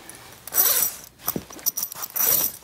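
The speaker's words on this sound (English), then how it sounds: "all their zippers are pull open like that" A center zipper on an Eberlestock Reveille military sleeping bag is pulled open in several quick, close raspy strokes, with short pauses between pulls and no talking.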